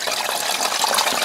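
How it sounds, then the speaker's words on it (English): Cold water from a mountain spring gushes and splashes into a hydration bladder, a brief, steady rush of bright, fizzy liquid noise heard up close. "Just fill in my Camelback straight out the spring."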